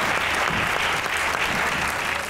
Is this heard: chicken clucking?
no